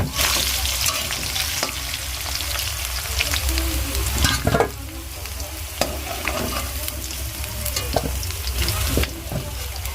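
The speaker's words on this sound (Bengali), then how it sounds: "সুন্দর করে ভেজে নিয়েছি, একদম আলুগুলো সুন্দরই লাগছে, ফ্রাই হয়ে গেছে" Potatoes fry in hot oil with onion, ginger-garlic paste and dried chilli paste, crackling and sizzling steadily while a utensil stirs and scrapes the pan at intervals.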